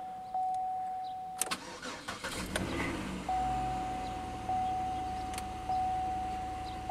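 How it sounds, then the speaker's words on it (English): Pontiac Aztek cold start after sitting a few days: a click, then the starter cranks briefly and the engine catches and settles into a steady idle, with a thin warning chime beeping at intervals throughout. "Let's go ahead and give it a cold start."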